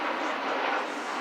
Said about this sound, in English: got airplanes coming over